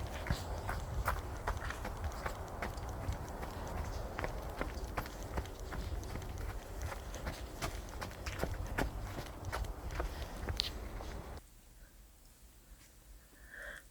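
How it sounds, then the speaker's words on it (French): Horse galloping in steady three-beat rhythm, hooves thudding close and clear with rider movement and wind noise, continuing for several seconds before the sound abruptly drops to a quieter background. "Donc ensuite, je galope."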